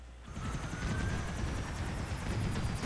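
A helicopter in the video game GTA IV thumps steadily with rapid rotor beats and a loud whining turbine, close and continuous with no voices over it.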